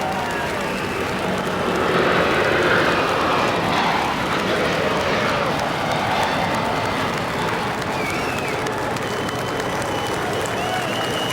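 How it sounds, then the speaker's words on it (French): An Airbus A380 at Toulouse on its first flight takes off with its four Rolls-Royce Trent 900 engines at full thrust, a loud, broad, sustained roar that swells and holds, mixed with crowd noise. "Les 4 moteurs Trent 900 sont en pleine poussée"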